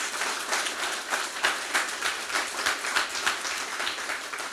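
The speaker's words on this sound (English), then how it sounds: "Can we get a round of applause for the first close?" Audience applause at a talk with a startup founder and managing partner, a dense, steady wash of many hands clapping that fills the whole stretch at a fairly even level.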